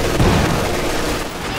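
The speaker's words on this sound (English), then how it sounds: "Machine gun!" Machine gun fire in the WWII strategy game Company of Heroes 2, a dense, loud wash of rattling shots and rumble filling a short winter-battle moment with no clear pauses.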